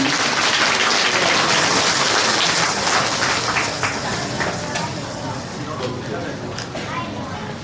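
An audience claps at a Taiwanese culture camp showcase. The applause is loud and sustained at first, then eases to softer, scattered clapping, with voices in the room.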